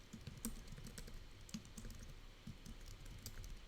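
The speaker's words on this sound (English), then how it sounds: "I'll type it out in the chat for anyone who" Close, quiet typing on a computer keyboard during a livestream, with an irregular patter of key clicks and occasional louder taps.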